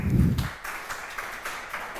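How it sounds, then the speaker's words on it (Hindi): Students in an online physics class clap for a few seconds after a poem is recited, the applause patchy and modest, with a low burst of sound at the very start. "चलिए तालियां बजा दो।"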